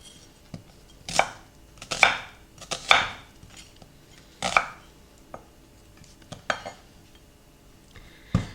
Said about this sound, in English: I'm just going to cut them in half and then just kind of rough chop them.